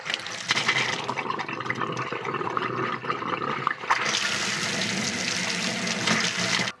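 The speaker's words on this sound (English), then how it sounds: "open them up and allow the air out and for water to flow out" Water gushes steadily from an opened household tap as air is purged from the pipes after the stopcock is reopened, a continuous splashing flow that surges louder partway through.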